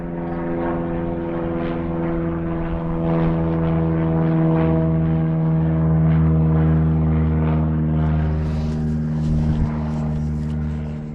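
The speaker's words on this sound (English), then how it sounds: "And there's a plane flying right there." A small propeller airplane flies overhead near a rural Alaska cabin, its engine drone loud and steady throughout and swelling slightly as it passes, with no one talking.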